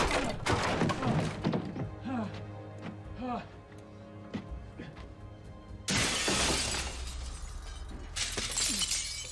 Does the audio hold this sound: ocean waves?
no